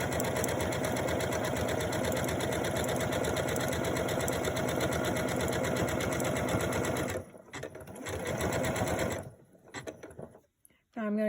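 A sewing machine runs steadily, stitching a slow zigzag along the edge of a mesh produce bag, a close, fast mechanical chatter that stops around the seam and then gives a few short stop-start bursts.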